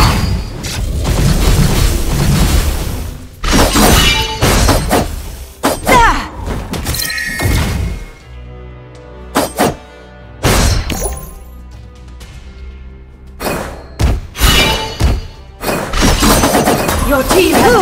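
Mobile MOBA game combat with repeated booming, shattering impacts from a turret being destroyed, loud clusters of crashes separated by quieter gaps and game effects.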